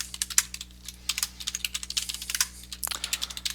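A computer keyboard clatters with quick, uneven bursts of keystrokes as a command is typed into a terminal, close and without talk.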